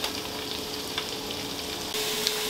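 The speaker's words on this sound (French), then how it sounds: "Dans le cookéo, j'ai mis un peu d'huile et je vais rajouter donc les poireaux." Leeks sizzle in a little oil inside a Cookeo multicooker, a steady close frying hiss with light stirring scrapes and a brief louder burst near the end.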